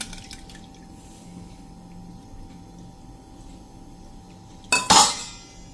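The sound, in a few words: draining salted water from mango pieces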